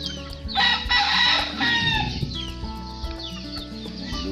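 Chickens on a small farm, a rooster crowing loudly and close while hens cluck around it, the crow fading into scattered softer clucks.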